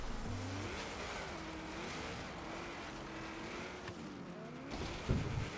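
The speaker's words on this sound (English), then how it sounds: "This Miata, first off, it's got a V8 in it." A lightweight Mazda Miata with a swapped-in V8, built for drag racing, drives in Forza Horizon 3, its engine note rising and falling in wavering revs under game ambience, with a brief louder burst near the end.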